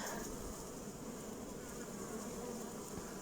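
Bees buzzing in a summer garden among zucchini plants, a steady soft insect hum that stays even and quiet throughout with no voices.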